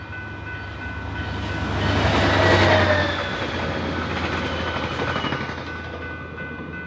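A delayed passenger train rolls past close by, its rumble swelling to a peak midway and then easing off, with a steady rail hum running throughout and no voices.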